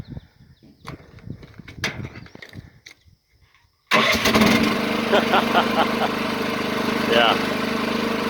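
A Digmaster mini excavator engine, running with a replacement relay, cranks over after some clatter and a brief hush, then catches and settles into a loud, steady running drone.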